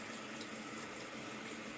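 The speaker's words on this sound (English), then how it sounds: "Okay, put some water in this" Water pours steadily into a small glass dessert pot, a continuous close rushing trickle at moderate level with no break and no voices.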